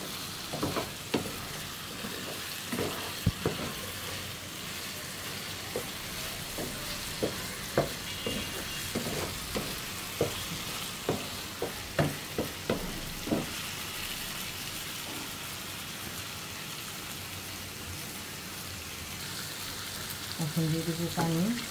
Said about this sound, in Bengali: মশলাটা এখন ভালো করে মশলার সাথে মিশিয়ে একটু ভাজা ভাজা করে নিব।